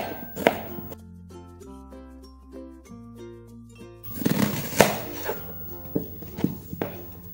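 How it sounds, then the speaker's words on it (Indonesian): A knife slices garlic on a cutting board, with a few sharp taps at first, then a quick run of close, crisp chops after a quiet stretch with music playing underneath. "Pertama-tama kita iris bawang putih."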